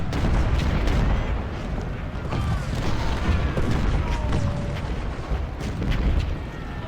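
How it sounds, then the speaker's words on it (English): Continuous rumbling battle din of massed artillery from a Civil War strategy game's Battle of Fredericksburg, with dense booms and crackling volleys blending into a loud, steady wall of sound. "That is so much artillery."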